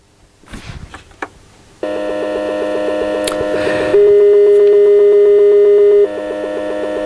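A ZX Spectrum Next–style machine plays emulated Spectrum beeper tones through a TV speaker. After some clicks and handling, loud sustained buzzy electronic tones play alone and shift pitch partway through.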